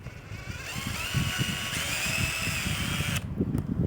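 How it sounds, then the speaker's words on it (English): A DeWalt drill fitted with a quarter-inch socket spins on the screws of a Maytag dryer being opened for repair, a steady high whine over rattling and clicking, stopping near the end, close and alone. "This is a 1/4 inch socket that I'm using with my DeWalt drill."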